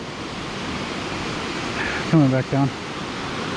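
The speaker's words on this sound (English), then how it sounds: "I hear the waterfall again." Waterfall on a loop trail in Ketchikan, heard as a steady broadband rush of falling water filling the background throughout, with a person speaking briefly near the end over it.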